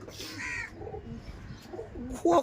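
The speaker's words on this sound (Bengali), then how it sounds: "কি পায়রা এটা? এটা লাল ডাব্বা বলে।" A red Ablook pigeon, locally called Lal Dabba, coos softly in a low, throaty burble, with a few repeated coo phrases and a brief louder call near the end.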